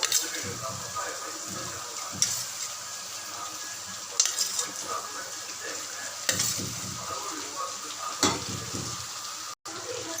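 Okra fries with onions in a pan under a constant sizzle, broken every couple of seconds by a scraping stroke of the spatula, with a faint voice now and then.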